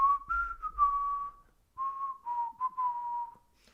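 A person whistles a melody, clear and close, with a pure wavering pitch held in long phrases and a brief pause between two passages, with no talking.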